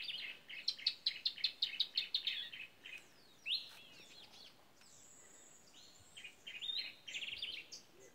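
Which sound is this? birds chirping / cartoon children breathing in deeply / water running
birds chirping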